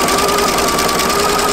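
Sewing machine set to stitch length 3 stitching stretched knit fabric for a jumpsuit, a loud, fast, steady motor whir with rapid needle chatter running continuously throughout.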